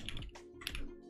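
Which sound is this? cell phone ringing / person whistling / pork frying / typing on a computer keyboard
typing on a computer keyboard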